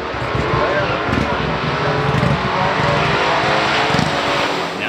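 1969 Plymouth Road Runner with the A12 engine in a stock drag race, a continuous loud engine roar, steady and close, with a voice talking over it.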